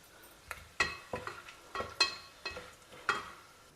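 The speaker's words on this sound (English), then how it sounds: "First we'll fry this in the oil and remove it and keep it aside." Dried turkey berries fry in hot oil, giving a soft crackling sizzle with scattered sharp pops and brief stirring scrapes, close and fairly quiet.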